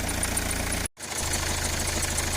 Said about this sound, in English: the car is ticking over